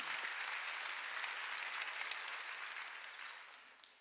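Congregation applauding during a Sunday worship service at a church, a steady wash of many hands clapping together that tapers off gently toward the end.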